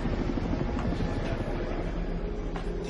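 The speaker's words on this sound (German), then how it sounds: "Die Hubschrauberüberwachung läuft präzise." A helicopter drones steadily overhead throughout, a continuous loud rumble with no voices over it.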